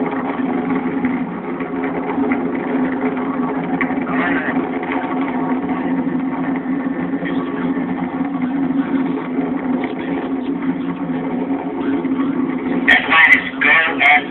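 Space Shuttle Atlantis on its final launch, its three liquid-fuel main engines throttling back to 72% of rated performance, gives a loud, continuous low roar that holds steady throughout, with a brief brighter burst near the end.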